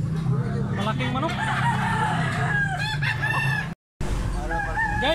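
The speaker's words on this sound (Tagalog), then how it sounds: "Malaking manok." Native chickens crow and cluck close by, with rooster calls rising and falling among steady clucking. Voices talk underneath, and the sound cuts out briefly near the end.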